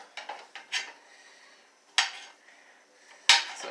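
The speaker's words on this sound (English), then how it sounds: "I'm chopping them up so they can be cooked and become a part of this meal." Mushrooms being chopped on a cutting board for a pantry stir fry: a few sharp, close knife knocks in an uneven rhythm, separated by quiet pauses, with no talking.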